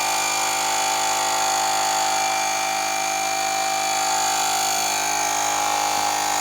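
A jfegwo portable air compressor tire inflator runs continuously, a loud, steady motor drone with a buzzing mechanical whine that stays even throughout.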